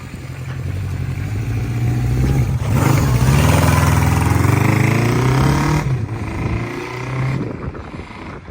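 A restored Honda CB750 Four K6 motorcycle with a 4x4 exhaust runs close by, a steady four-cylinder idle that swells into a louder rev midway and then settles back down.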